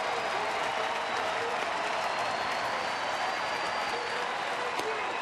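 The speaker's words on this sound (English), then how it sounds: "Sellout crowd here at the ballpark. Everybody standing." A sellout ballpark crowd stands and cheers at a baseball game, Cleveland at Minnesota, a steady dense roar of applause and voices filling the whole stretch with no break.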